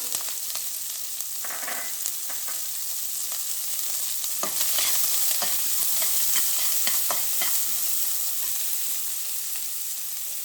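Onions and curry leaves frying in a pan give a loud, steady sizzle. Scraping stirs grow busier partway through, with no one speaking.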